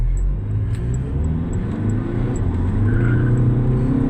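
Car with a DSG gearbox and Kerma tune spinning its wheels under throttle, a loud steady engine drone with a rising high whine and a brief tire-squeal tone near the end, heard from close by.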